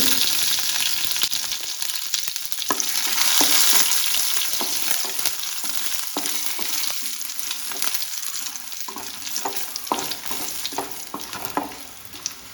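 Dried red chillies and curry leaves fry in hot oil as a tempering for Kerala-style pal kappa, heard as a loud, unbroken crackling sizzle with scattered pops and stirring clicks.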